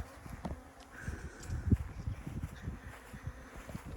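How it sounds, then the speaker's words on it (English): Honey bees buzz around their hives outdoors, a faint, low, steady hum with scattered closer buzzes and light rustling, no one speaking. "Bees are so active here. They are flying extremely much."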